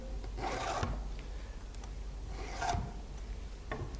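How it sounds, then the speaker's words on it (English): A file rasps across the cutting tooth of a chainsaw chain during sharpening, two long strokes followed by the start of a third, close and fairly quiet. "that's how easy it is to sharpen the cutting tooth of your chain"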